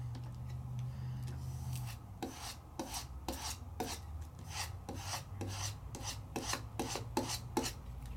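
A Penny Black rub-on transfer is burnished onto card in a quiet run of short, rhythmic scraping strokes, close and soft with no talking.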